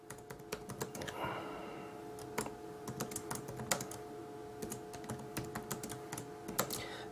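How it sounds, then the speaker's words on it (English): Fingers tap out a few sentences on a computer keyboard, producing quick, irregular clicks in short bursts, close and clear over a quiet room hum with no voices. "So I can type something here."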